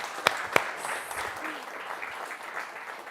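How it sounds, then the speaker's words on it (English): An audience at an evening charity auction event applauds for Miranda, a soft, steady wash of clapping with a couple of sharp, close claps near the start and faint voices mixed in. "How about a round of applause for Miranda?"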